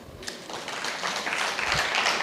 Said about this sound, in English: Please applaud this.